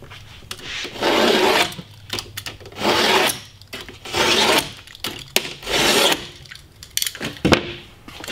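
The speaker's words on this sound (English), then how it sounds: "I have a little scoring knife I'm going to use." Scoring knife drawn across a board during a wall float job, five or six long rasping scrapes in a steady back-and-forth rhythm, close and fairly loud, with short pauses between strokes.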